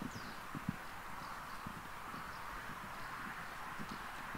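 A saddled horse cantering makes faint, rhythmic hoof thuds on soft ground against steady outdoor background noise, with no talk.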